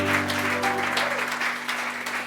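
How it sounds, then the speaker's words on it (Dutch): Audience applause for the speakers at a jubilee carnival café evening in Limburg, steady clapping throughout with a sustained musical tone underneath. "Mogen we applaus voor de speakers alsjeblieft?"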